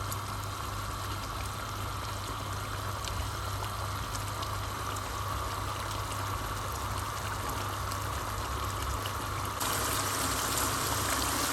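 A Shinwari chicken karahi cooks as its water boils off, giving a steady, even hiss and bubbling sizzle that continues close and unbroken throughout, with no talking.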